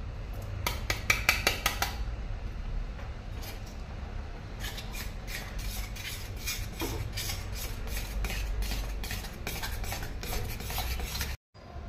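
A spoon scrapes in rhythmic strokes as cashew powder is stirred into a jaggery mixture in a pan, close and steady throughout, ending in a brief pause.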